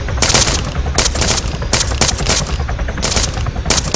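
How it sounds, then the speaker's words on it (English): A Chinook helicopter in the video game ARMA 3 thumps loudly and close by, its rotor beating out rapid, evenly spaced heavy pulses with a harsh broadband roar between them. "damn loud Chinook"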